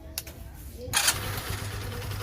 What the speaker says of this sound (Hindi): तो यहाँ पे मैं इंजन को थोड़ी देर के लिए स्टार्ट कर देता हूँ